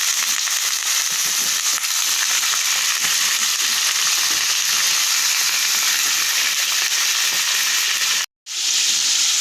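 Pork for humba sizzles loudly in a pan, a dense and steady crackle of frying meat close by. The sizzle cuts out briefly near the end and then comes back.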